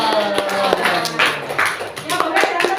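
Students in an Indonesian classroom clap their hands together for a group that finished its worksheet first, a short burst of scattered, uneven claps at close range with some tapping mixed in.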